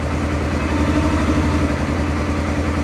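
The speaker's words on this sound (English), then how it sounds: "It's idling up right now." An Arctic Cat snowmobile engine idles steadily at close range, a low rumbling drone with a slight unevenness, running alone without voices.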